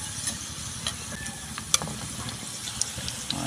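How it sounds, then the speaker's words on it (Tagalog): Shells frying in hot cooking oil in a pan, a steady bubbling sizzle with occasional light clinks and stirring taps, close and alone without talk. "pangalawang salang natin sa mantika"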